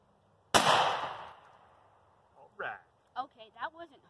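A youth shotgun fires a single loud, close blast at a turkey target, with the report decaying over about a second before voices speak afterward.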